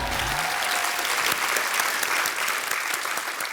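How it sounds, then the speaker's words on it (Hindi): Loud, dense studio audience applause welcoming a guest actor onto a Hindi comedy talk show stage, a continuous wash of many hands clapping with no talk over it. "आपकी जोरदार तालियों के बीच स्वागत करना चाहूंगा"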